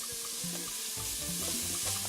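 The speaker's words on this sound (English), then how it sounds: "now I've added my green peppers, my onions, my celery, and some garlic" Chopped green peppers, onions, celery and garlic sizzle in a dark gumbo roux with chicken sausage and shrimp to come, a dense steady crackle with faint scraping and clinks from the pan.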